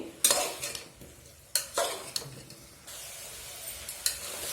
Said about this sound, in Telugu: ఈ ఆయిల్లోనే ఇట్లా ఒక మూడు నిమిషాల పాటు బాగా వేయించుకుందాము వీటినన్నింటినీ